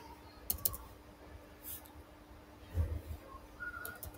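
Sparse, soft keystrokes on a computer keyboard, a few scattered clicks and short bursts at low level in a quiet room, with no talk.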